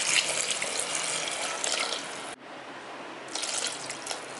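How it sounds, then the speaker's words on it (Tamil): Water pours steadily and close by into a pan of brinjal biryani with basmati rice, a continuous splashing stream that pauses briefly midway and then resumes. "1 கப்பு அரிசிக்கு 1/2 கப்பு தண்ணி சேர்த்துக்கோங்க."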